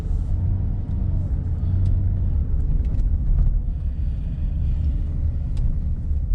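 A 2017 Chevrolet Traverse LT drives on the road, heard from inside the cabin as a continuous low rumble of engine and road noise with faint occasional ticks and rattles.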